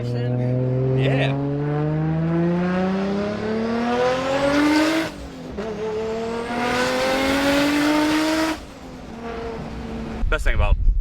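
An 800 hp Nissan R33 GTR accelerates hard from inside the cabin, engine pitch climbing steadily through two long gear pulls with a brief shift gap between them, loud and close, ending in rough idle noise.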